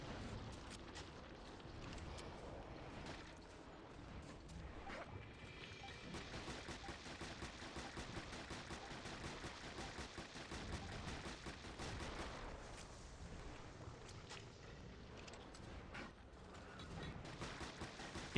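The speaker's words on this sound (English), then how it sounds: "Machine gun does a little bit of damage." Sustained machine gun fire in the video game Resident Evil Revelations, a dense continuous rattle of rapid shots with bursts of impacts, steady and loud throughout with no talk over it.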